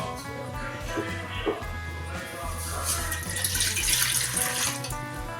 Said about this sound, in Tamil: ரெண்டு சொம்பு தண்ணி ஊற்றிக்கலாம்.